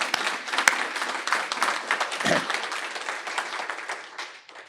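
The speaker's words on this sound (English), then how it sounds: "We can give them a big round of applause." A seated audience at an outdoor parks awards presentation gives a round of applause, dense steady clapping that tapers off near the end.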